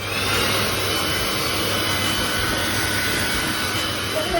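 A Polti Lecoaspira FAV80 steam vacuum cleaner runs steadily after a repair, giving a loud, continuous whirring motor roar with a low hum that holds level throughout.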